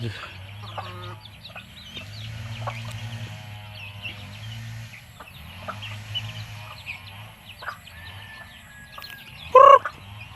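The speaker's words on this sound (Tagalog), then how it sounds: "napakain na natin si Blackjack at mga manok" Chickens cluck and chatter steadily over a low hum, with a louder squawk near the end; faint voices mingle in the background.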